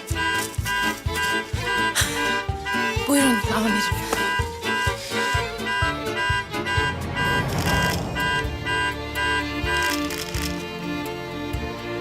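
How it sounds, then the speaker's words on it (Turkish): A loud car alarm blares with repeating electronic tones, continuous and close, layered over other busy noise throughout. The alarm is oversensitive and sets off at the slightest disturbance. "Değiştireceğim bu alarmı. Sinek uçsa ötmeye başlıyor."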